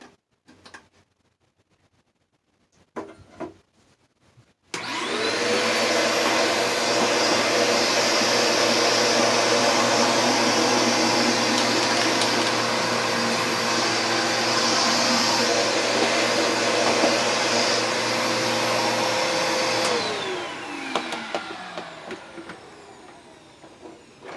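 A high-pitched rotary tool whines steadily for about fifteen seconds as a larger bit grinds a burr off metal inside stereo equipment, loud and close, spinning up sharply and winding down at the end.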